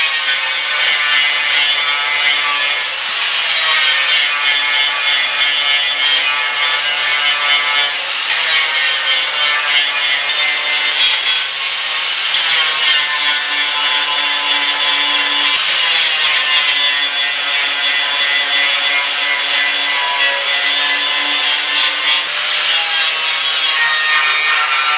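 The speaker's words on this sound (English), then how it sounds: "Where's my grinder?" Power grinder working down metal welds on a rusted Model A pickup bed during repair, a loud, steady abrasive whine that runs continuously with slight surges and dips throughout.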